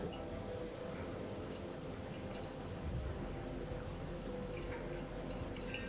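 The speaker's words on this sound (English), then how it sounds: "Now, we're going to pour up to 175 grams, pouring around the edge, and then finishing with the center" Soft, quiet trickle of water being poured around the edge and center of coffee grounds, with faint drips and splashes over a low steady background hum.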